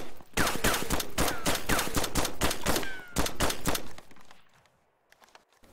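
Rapid gunfire from DayZ at an airfield: a string of about a dozen sharp, loud shots at a steady fast rhythm, then a few faint distant pops as it trails off.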